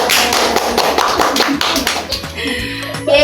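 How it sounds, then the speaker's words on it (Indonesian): Students in a classroom clap for a classmate who came up to the front, a dense burst of many hands lasting a few seconds, close and steady, thinning toward the end. "Beri aplaus untuk Revo sudah maju ke depan."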